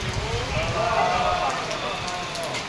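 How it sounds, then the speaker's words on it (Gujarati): Heavy rain pours steadily onto a tarpaulin outdoors during a fire ritual, a loud, dense, continuous patter with a voice talking over it. "હવે વરસાદ ચાલુ થઈ ગયો છે બહુ ખતરનાક"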